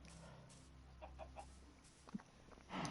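Minecraft chickens cluck in a few short, soft bursts around a crude in-game chicken coop, quiet and spaced out, with no talking over them.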